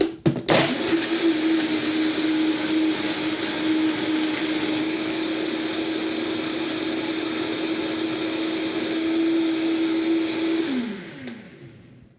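A blender on full speed churns whole hemp seeds and water into hemp milk, a loud steady motor whine with a constant hum, running about ten seconds before winding down.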